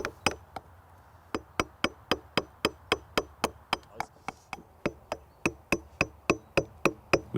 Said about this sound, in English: you can do this the old-fashioned way with a nice wide chisel